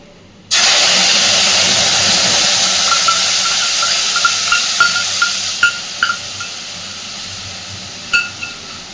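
Spice paste hits hot oil in a pan with cumin seeds over a low gas flame, bursting into a loud sustained sizzle that starts abruptly and carries on with scattered pops and crackles.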